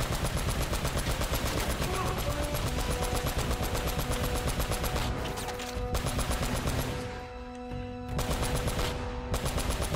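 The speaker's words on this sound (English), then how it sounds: "Yep, this is a turret section" Turret gunfire in Uncharted pounds away in an almost unbroken fast stream of shots, loud and close, easing briefly before resuming, with talk faintly underneath.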